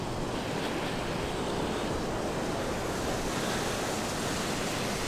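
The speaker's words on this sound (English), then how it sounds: "There's a bit of a sculpture in the middle with water coming out and a little pool." Water pours from a sculpture fountain into a small pool in a seaside town, a loud, steady broadband rush that stays constant and close with no pauses or voices.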